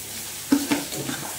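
Chana pulao with salt and sugar sizzles in a pan while a spoon stirs it, giving a few quick close scrapes and clinks over a steady soft frying hiss.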